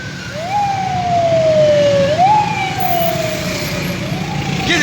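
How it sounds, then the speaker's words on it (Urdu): A police car's wailing siren sweeps slowly up and down in long cycles, loud and fairly close in street traffic with a steady road rumble beneath it and no talking. "پولیس کی گاڑی جو ہے یہ الٹے ہاتھ سے آ رہی ہے"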